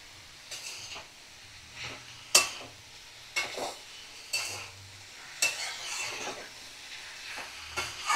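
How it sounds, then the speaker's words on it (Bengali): Bottle gourd and shrimp are stir-fried in a pan over a medium flame, with a quiet background sizzle broken by about eight sharp, irregular scrapes and stirs of the utensil against the pan. "আমি 5 থেকে 7 মিনিট চিংড়ির সাথে লাউ কষিয়ে নেব"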